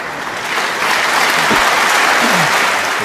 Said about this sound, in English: Terrific reception from this crowd here.